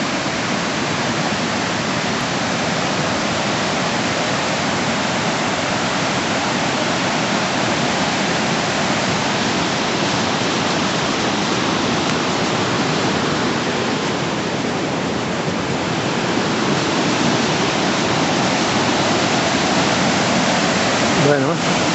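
A small stream runs under the Chelo bridge in Betanzos, A Coruña, giving a steady broadband rush of flowing water. It stays even and continuous throughout and fills the whole clip without pause.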